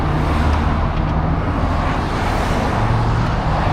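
Steady roadway noise from cars and trucks near a highway on-ramp, a continuous broadband rumble with low engine hums drifting through, heard close and fairly loud without any speech.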